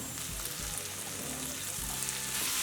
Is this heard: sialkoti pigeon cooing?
no